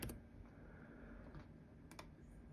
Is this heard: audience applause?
no